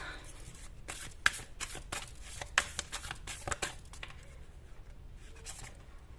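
Tarot cards being shuffled up close, a run of quick papery riffles and soft slaps in uneven bursts, fairly quiet with no talking.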